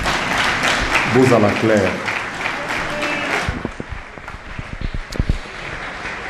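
An audience applauds after a formal address at a ceremony, a dense, steady clatter of clapping that runs throughout while a voice speaks over it early on.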